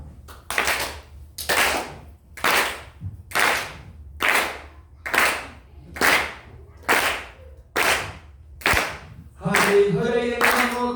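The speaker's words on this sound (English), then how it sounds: "all right, all of you, clap your hands." A group claps hands together in a slow, steady unison rhythm, about ten sharp, loud claps evenly spaced, followed at the end by the start of a sung chant.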